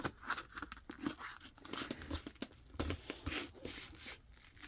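Sheets of paper for a junk journal wallet crinkle and crease while being folded by hand, a steady run of close, dry rustles and soft crunching.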